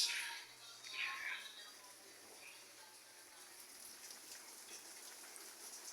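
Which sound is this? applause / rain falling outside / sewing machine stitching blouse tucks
rain falling outside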